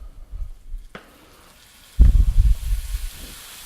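Tomatoes slid into a hot pan for sautéing, breaking into a loud sizzle and crackle that starts abruptly midway and keeps going close up, with a quieter stretch before it.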